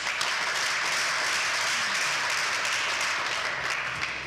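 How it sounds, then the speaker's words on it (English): Audience applause at a live event, a dense, even wash of clapping held at a steady level throughout, slightly distant. "So let's please give him a round of applause."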